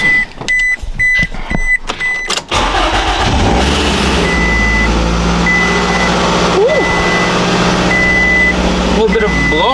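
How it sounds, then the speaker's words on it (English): A 2006 Scion tC fitted with a Takeda short ram intake cranks and fires up for the first time, a brief starter whir with beeps giving way to a steady, loud idle that blips once before settling. "now we are ready for the first startup with the new Takeda intake"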